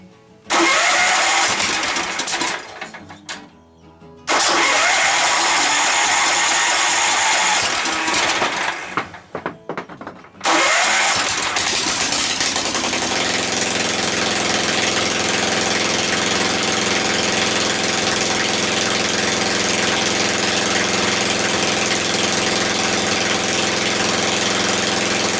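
Tecumseh 17.5 OHV engine cranking in loud bursts with pauses, then firing up and settling into a steady, loud, even idle that runs on for about fifteen seconds.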